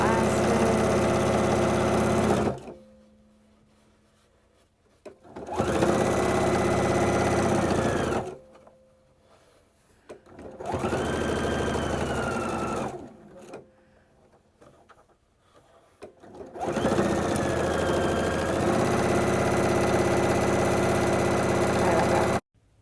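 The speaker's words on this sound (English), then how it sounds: "So I'm sewing down my elastic." A sewing machine stitches elastic onto a fabric N95 mask cover in four loud, steady whirring runs of a few seconds each, separated by short quiet pauses, heard up close.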